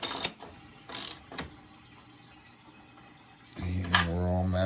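Ratchet wrench with a half-inch deep well socket tightening a screw on a mounting bracket for a DeWalt miter saw stand, giving a few brief metallic clicking bursts close by before a voice starts talking.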